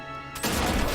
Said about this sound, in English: Well, it was just an explosion.